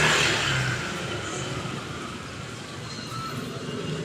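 A motorized tricycle engine drones steadily, a rough continuous rumble that starts slightly louder and then settles to an even level, with no voices.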